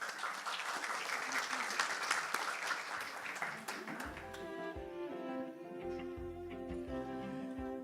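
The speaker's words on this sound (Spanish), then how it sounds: "Pido que recibamos con un aplauso al señor Aldo Leporati." Audience applause greeting a speaker at a talk on reputational capital, a sustained burst of clapping that thins and fades midway as music-like tones take over.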